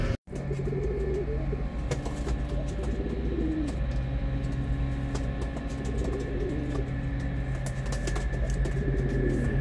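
A brown dove coos in Saudi Arabia, giving soft low repeated calls at a moderate distance over a steady background hum. No one speaks.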